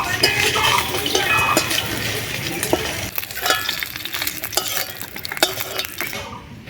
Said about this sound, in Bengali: মাছের মাথাগুলো ভাজা হয়ে গেছে তুলে নিচ্ছি